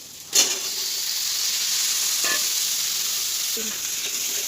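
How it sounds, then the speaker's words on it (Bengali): Chopped vegetables fry in a pan with turmeric and Kashmiri chilli powder, a steady close hiss and sizzle with a few sharp stirring clicks and scrapes. "এবার মশলার সাথে সবজিগুলিকে ভালোভাবে ভেজে নেব।"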